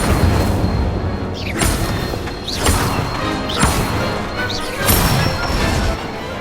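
Magic spells cast in the Hogwarts Legacy video game, Incendio among them, land as four or five sharp whooshing blasts about a second apart, with a busy game backdrop behind them.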